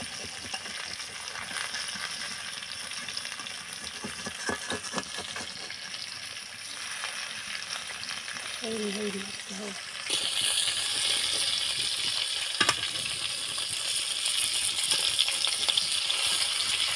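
Rohu fish frying in a pan makes a continuous hissing sizzle with scattered clattering and ticking, growing a little louder partway through.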